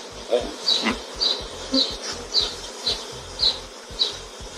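A swarm of honey bees passes through a garden, with a close, loud buzz that pulses in a regular rhythm, roughly one swell every half second.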